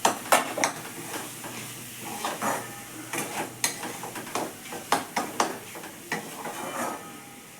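Fresh pigeon peas, coarsely crushed, are stirred in hot oil, with repeated scraping strokes of a spoon against a pan over a soft, constant sizzle, close up.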